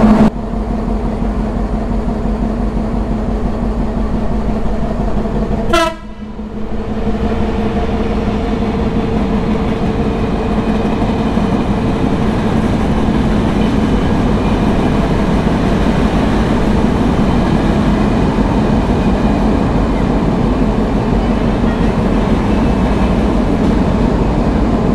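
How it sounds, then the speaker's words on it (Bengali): A local train on the Mongla to Benapole line pulls out of a station, its carriages giving a steady, loud rolling rumble throughout, with a brief dip in noise early on. "স্টেশন থেকে ছেড়ে আপনার এখন নেক্সট স্টেশনের দিকে যাচ্ছে"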